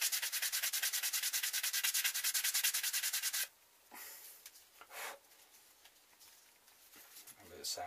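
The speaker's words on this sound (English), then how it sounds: "Now I just run a little bit of sandpaper over the top of it." Sandpaper rubs over a bushcraft ferro rod neck sheath. Fast, even back-and-forth strokes sound close and loud for a few seconds, then give way to quieter, scattered rubbing and handling.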